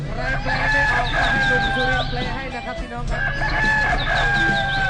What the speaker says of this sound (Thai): เสียงไก่ขันยามเช้าบอกสัญญาณของวันใหม่